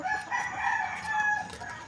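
Chickens pecking at garden plants, clucking and crowing near and fairly faint, with repeated short calls and no talk.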